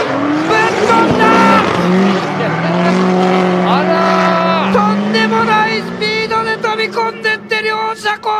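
Two drift cars at the D1 Grand Prix running off course after a 169 km/h entry: high-revving engines whine and shift with squealing tires, then sputtering, bouncing engine bursts near the end, loud and close.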